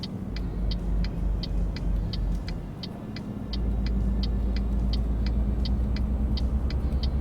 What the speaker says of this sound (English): Since I finally found out what the engine brake, where the engine brake is, it's a lot easier doing it.